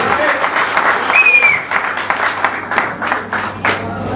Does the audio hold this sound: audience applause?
yes